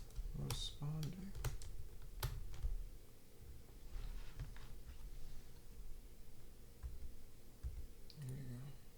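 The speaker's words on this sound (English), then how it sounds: "is my keyboard dead again? It's on, but it's just not responding." Faint, quiet typing on a computer keyboard, with irregular clicks scattered over a low background hum and occasional soft voice sounds.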